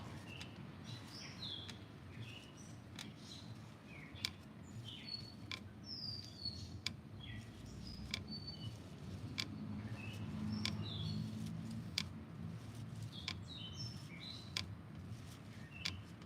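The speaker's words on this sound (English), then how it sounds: "Don't you love the sound of the birds chirping?" Birds chirp in short, scattered bursts against a quiet outdoor background, some calls close and others farther off.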